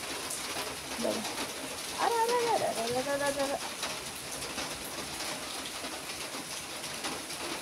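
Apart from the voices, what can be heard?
rain falling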